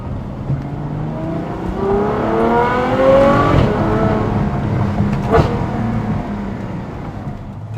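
A Ferrari F12 with a V12 engine revs up on a test drive, its engine note climbing and swelling loud and near, with sharp gear-change bursts along the way.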